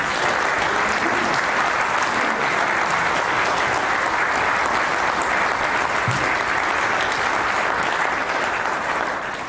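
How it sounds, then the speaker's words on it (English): A live audience applauds at a public event, sustained loud clapping that runs evenly throughout with no voices over it. "give them all a round of applause"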